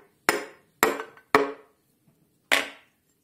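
Piston being tapped into a Honda Civic engine block with one hand: four sharp, close knocks, the first three in quick succession and the last after a short pause.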